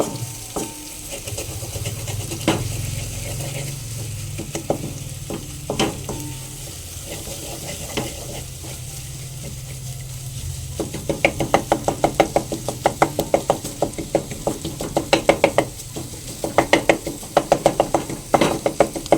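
Scrambled egg being stirred and chopped in a pan over a low flame, a steady soft sizzle with scraping strokes, then a run of quick sharp spatula knocks against the pan in the second half; no talk.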